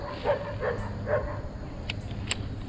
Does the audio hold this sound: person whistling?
no